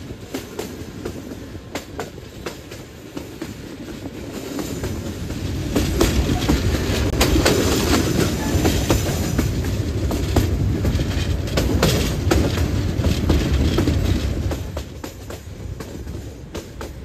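The Jayantika Express runs from Dhaka to Sreemangal, a loud rumble with clattering wheels on the rails that swells in the middle and eases toward the end, with no voices.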